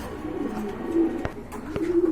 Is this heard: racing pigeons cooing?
yes